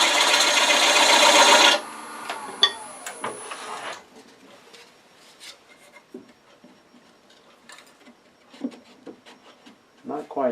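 A detail gouge cuts spinning wood on a lathe while turning a spatula pot, a loud close scraping hiss for the first two seconds, then fading to softer intermittent scrapes and taps.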